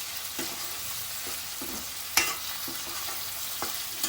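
Tomato and onion sauté in a pan, giving a steady close sizzle with scattered scraping and tapping of a utensil stirring the vegetables.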